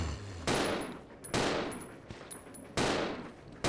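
Gunfire in the video game Resident Evil 0 HD: three loud, heavy shots spaced about a second apart, each with a long ringing decay, plus a few faint clicks between them and no talking.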